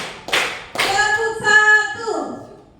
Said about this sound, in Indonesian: tepuk